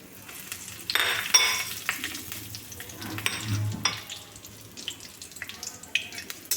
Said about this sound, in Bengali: এগুলো একসাথে দিয়ে ভেজে নিচ্ছি